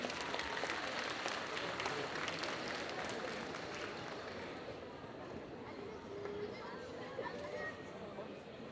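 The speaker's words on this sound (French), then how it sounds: "Donc on va vous demander de bien les applaudir, nos petites participantes." An audience at a cosplay parade at a game show applauds young participants, with steady clapping and murmuring chatter that gradually softens, heard at a moderate distance.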